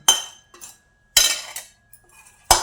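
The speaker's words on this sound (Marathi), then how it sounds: "हे बोंबीला आपण काढून घेऊ एका ताटामध्ये" Utensils clink against a plate as bombil (Bombay duck) fish is lifted out of a pot while making bombil biryani: three sharp metallic clatters with short rattles between, close and fairly loud, with no talk.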